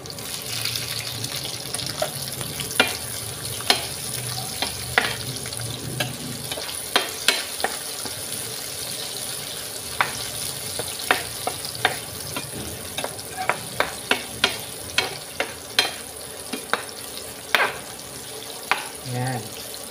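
Onion sautéing in a pan gives a steady low sizzle under a continuous background hiss, with frequent sharp clicks and taps of a utensil stirring against the pan, close by and moderately loud.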